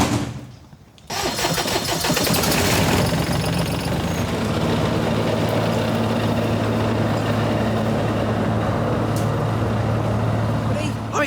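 Lawn mower engine running after a hydraulic pipe repair, catching after a brief quiet moment and then droning loud and steady with a rough mechanical rumble throughout.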